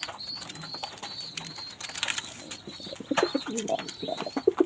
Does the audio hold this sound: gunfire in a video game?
no